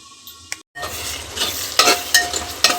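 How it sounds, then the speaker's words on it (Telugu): Onions and tomatoes fry in a pan for coconut milk rice, giving a steady close sizzle with stirring scrapes and a few louder sharp bursts, broken by one brief silent gap. "టమోటా ఆనియన్స్ ఇవన్నీ బాగా ఫ్రై అయ్యాయి కదండి"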